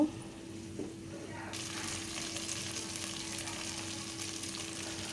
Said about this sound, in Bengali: চা চামচের দু চামচ আদা রসুন পেস্ট এটা আমি হালকা একটু ভেজে নেব